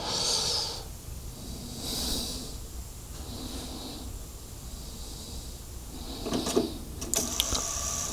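A cassette deck running auto calibration on a tape, soft mechanical whirs and clicks with faint test-tone chirps, bursts of motor and transport noise rising toward the end, no speech.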